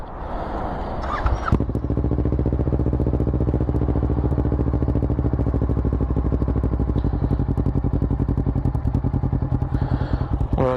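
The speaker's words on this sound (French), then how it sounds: "Le bruit que le MIV fait sans chicane." Kawasaki ER6N motorcycle engine idling through an MIV exhaust with the baffle removed, a loud, steady, close throb with a quick rev at the start and a faint blip near the end, no talk.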